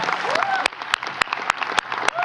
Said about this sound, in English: can we please applaud Bob and Christina and all of the folks on the stage